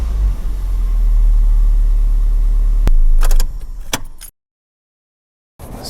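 A car engine idles during an oil consumption test, a steady low rumble for about three seconds, followed by a few sharp clicks and a door-like clunk before the sound cuts to silence.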